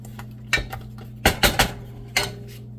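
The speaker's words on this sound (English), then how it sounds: "We're gonna give this a little stir here" Cream of mushroom soup gets stirred in a pot, with a handful of distinct metallic clinks and scrapes of a utensil against the pot over a steady low hum, close and clear with no talking.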